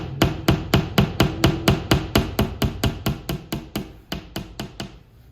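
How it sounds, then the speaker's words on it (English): A hammer gently taps a nail into drywall in an even run of about twenty light, close knocks that slow slightly and end, with no talking. "Gently tap it and feel it sinking in."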